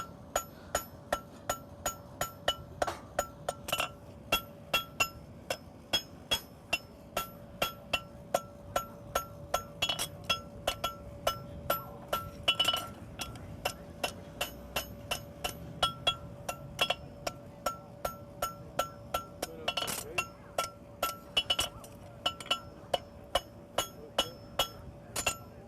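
Steady, ringing hammer blows on an anvil as a farrier forges a horseshoe, dozens of metallic strikes in a quick, even rhythm with bright clinks, moderately distant and without talk.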